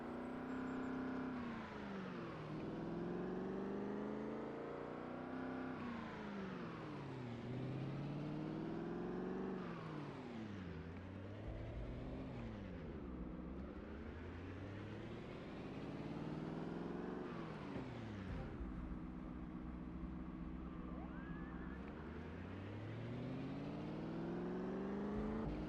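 Engine of a car towing a trailer in the zombie survival game Project Zomboid, revving up and easing off repeatedly as it shifts gears while driving, close and steady with no talking.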